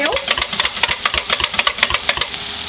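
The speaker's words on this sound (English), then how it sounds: "Now I'm going to whisk" A whisk beats cornstarch into stock in a bowl for Salisbury steak gravy, giving a quick, steady run of rhythmic clinks and scrapes, close and fairly loud.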